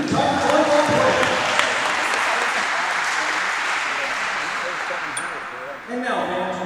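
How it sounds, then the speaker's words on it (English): Crowd applause for senior Tiger volleyball players at a home volleyball match against Harding, a broad steady roar of clapping filling the gym, loud and sustained, with a voice carrying over it near the end. "One more round of applause for the senior Tiger volleyball players."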